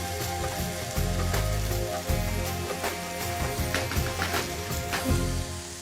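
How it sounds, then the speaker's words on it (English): Prawn heads and shells fry in oil with whole spices, giving a steady, moderately quiet sizzle and crackle with scattered pops throughout and no talking. "we'll just allow that to fry away for 15 minutes"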